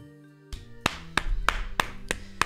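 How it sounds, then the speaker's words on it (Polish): Sharp claps or knocks heard during a stream of the fan-made Reksio i Kretes: Odkop demo, about six distinct hits spaced unevenly after a short quiet start, close and fairly loud. "Wszyscy wielkie oklaski dla Foxa w tym miejscu"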